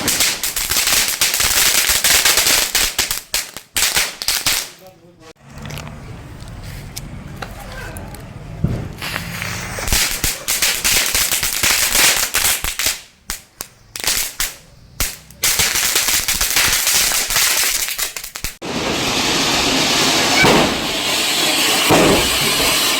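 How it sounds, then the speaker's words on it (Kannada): Chinimini firecrackers burst close by during a family Diwali night, sharp rapid crackling pops in dense volleys with brief quiet gaps, and people talk over the noise. "ಚಿನಿಮಿನಿ ಪಟಾಕಿ ನೋಡಿದಿರಾ?"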